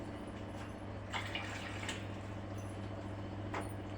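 Water is poured to mix cold with warm water, heard as a faint trickling splash over a steady low hum, with brief louder pours midway and near the end.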